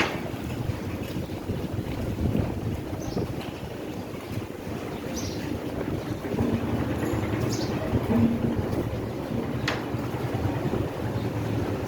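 Local ferry boats at the Barisal launch ghat river crossing, heard as a steady low rumble of boats and water under heavy wind buffeting the microphone, continuous throughout with no talking.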